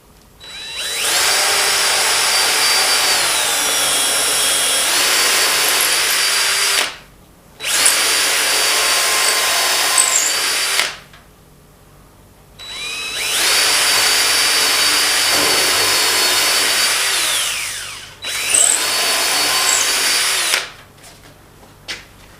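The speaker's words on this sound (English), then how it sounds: "I'm pre-drilling a hole." A power drill pre-drills holes in wood blocks clamped square for a simple step, whining loudly in four long sustained bursts separated by short pauses, close and with no talk.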